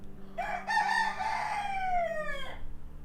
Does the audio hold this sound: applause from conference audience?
no